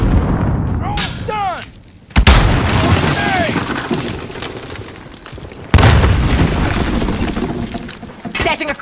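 Loud booming blasts and gunfire in a Call of Duty Modern Warfare match, with a sharp explosive burst near the two-second mark and another around five and a half seconds, over constant battlefield noise.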